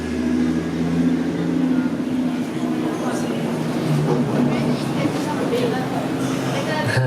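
A drift car handbrakes through a competition zone, with loud, sustained engine and tire roar that swells and shifts in pitch as the car slides through, and an announcer talks over it.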